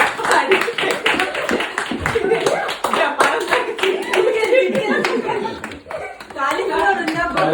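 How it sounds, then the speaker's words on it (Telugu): A group of people claps together at a 100K subscriber celebration, giving a dense, lively patter of close hand claps mixed with chatter, a voice and light laughter. "క్లాప్స్ కొట్టండి కదా"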